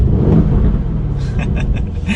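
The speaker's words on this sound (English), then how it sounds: "we can do a quick little rev" A 2020 Aston Martin Vantage engine held in neutral gives a quick rev, a deep loud rumble that swells briefly, close by and alone.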